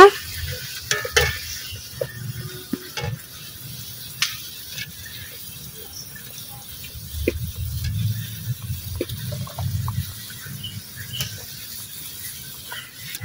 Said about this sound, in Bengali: এখন আমি এই ভেজে রাখা মাছ দিয়ে দেব।